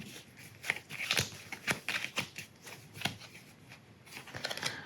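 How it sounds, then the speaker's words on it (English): A commander attack deck of cards for the board game Chronicles of Drunagor being shuffled, giving a close, dry run of quick riffling flutters and soft card slaps that comes in irregular bursts, with no talking. "we have a commander attack deck, and we've got to shuffle this"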